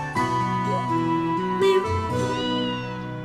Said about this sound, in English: It did have a cat sound effect.